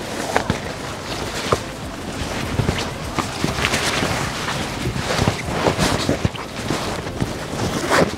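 A boat travelling across Dukan Lake, steady loud rush of water and engine noise with wind buffeting the microphone throughout.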